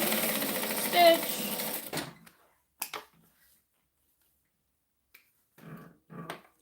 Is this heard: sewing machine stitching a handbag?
yes